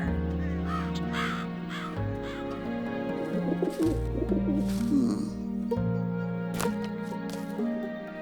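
A green cartoon bird from the Room on the Broom animation calls with crow-like caws, heard over continuous music, with a short cluster of chirpy calls in the middle.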